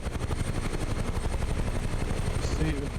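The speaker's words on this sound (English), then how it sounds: "We don't want the helicopter too loud." Huey helicopter in a flight simulator game, a steady, loud rotor chop with rhythmic thumping that runs without a break, a voice briefly talking over it near the end.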